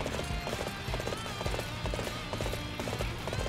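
Horse hooves clip-clop steadily in Dynasty Warriors 8 Empires, a rapid, even gallop rhythm running throughout, close and fairly loud over busy in-game background sound.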